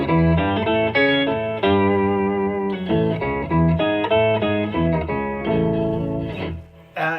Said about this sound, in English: So in this tone print setting I have the polyphonic organ generator,